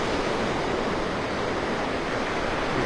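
Gulf of Mexico waves washing ashore at Delnor-Wiggins beach in North Naples, Florida, a steady dense hiss of surf close by with no voices.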